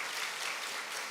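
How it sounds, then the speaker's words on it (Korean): Broad, steady applause fills a church during a Sunday morning service as the congregation claps to welcome a newcomer, a dense even patter heard at a moderate distance without talk. "우리 환영의 박수 한번 부탁하겠습니다"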